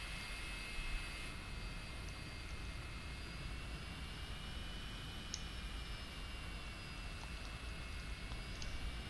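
Aircraft taxiing in the DCS World flight simulator, a steady, even engine drone that holds at a constant level throughout with no talk.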